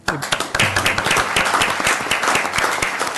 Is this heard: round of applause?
yes